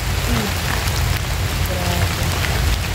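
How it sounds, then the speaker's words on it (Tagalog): Steady rain falling outdoors, a dense constant hiss and patter close by with a low rumble underneath, continuous for the whole moment. "lalo na ngayon ang umulan"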